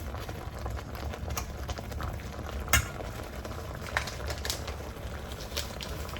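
Japanese curry gravy simmers in a pot as broth is added, giving a quiet, steady bubbling with scattered soft pops and one sharper clink. No one speaks.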